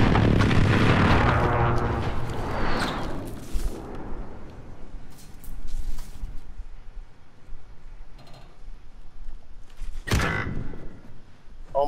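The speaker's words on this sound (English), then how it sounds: "Did you just hit me with that airstrike?" Airstrike explosions in Call of Duty: Modern Warfare open with a heavy booming blast that rumbles and decays, followed by scattered smaller bursts and a sharp final impact near the end.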